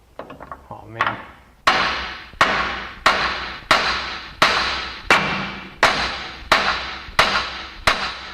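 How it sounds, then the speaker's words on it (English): Hammer blows on the control arm joint of a 1994 Chevrolet Suburban: about ten sharp metallic strikes at a steady, slightly quickening rhythm, each ringing briefly before the next, loud and close with no talking. "I'm going to go ahead and hit it right here with a hammer."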